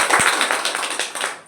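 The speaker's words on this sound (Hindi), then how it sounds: "एक बार ताली हो जाना चाहिए कि नहीं?" An audience at a business meeting breaks into clapping, a brisk burst of many hands that starts loud and tapers slightly over a second and a half, with no speech.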